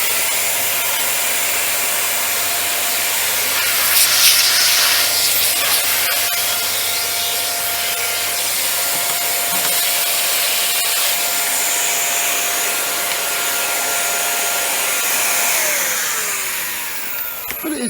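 A Panasonic MC-UL710 vacuum cleaner runs with its extendable crevice tool fitted, a loud steady motor whine and airflow rush that holds constant before winding down at the end.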